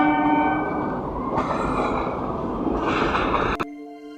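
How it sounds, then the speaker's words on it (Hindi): A train rolls past close by, its loud, steady rumble filling the scene while a horn sounds in long tonal blasts, stopping abruptly near the end and leaving a brief lingering tone. "ट्रेन आ रही थी इसलिए मुझे वीडियो रोकना पड़ा था"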